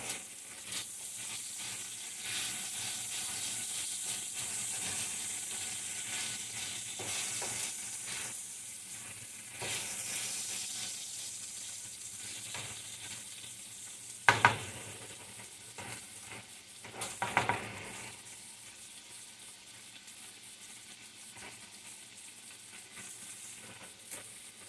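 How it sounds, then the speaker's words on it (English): An egg pie mixture with potatoes fries and sizzles steadily in a pan as it is stirred, a continuous close hiss broken by a couple of louder scrapes and clatters midway, with no talking. "Keep stirring, you don't want it to stick."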